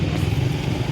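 A rough, noisy motorcycle engine drones steadily while riding, heard close and loud in a very brief burst.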